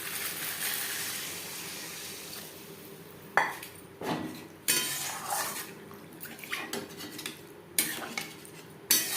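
A metal spoon stirring potatoes into curry gravy in a pan for a fish curry, with sharp clinks and scrapes against the pan at irregular intervals over a soft background hiss.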